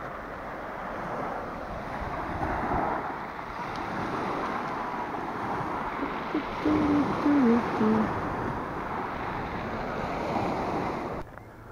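Sea waves breaking on an empty open beach near Novorossiysk, a continuous roar of surf with heavy wind buffeting the microphone, steady and fairly loud throughout.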